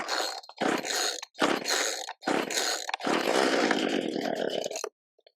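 Several sharp bursts from a free chainsaw being pull-started, loud and close, with an engine pop or brief catch as the cord is yanked repeatedly in uneven rhythm.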